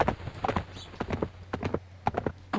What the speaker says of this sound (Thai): โอ้เจอม้าด้วยนะท่านผู้ชมฮะ